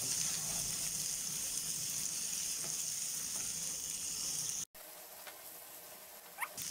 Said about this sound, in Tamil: இது எல்லாத்தையும் ஒன்று நல்லா வதக்கிக்கலாம்.